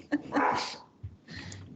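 A dog gives a couple of short, close barks in quick succession, brief and moderately loud, with no talking over them.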